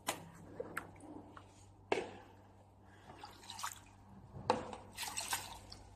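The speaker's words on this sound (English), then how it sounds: "the water will come out from this hole. It means you release the water." Water drips and trickles from the outlet hole of a 360-degree CoolSculpting machine as it is drained, with scattered splashes and drops at close range, quiet and without talk.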